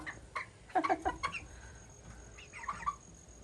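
Chickens cluck in bursts from a coop, a cluster of close, clear calls near the start and another short run later over a quiet background.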